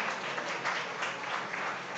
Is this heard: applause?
yes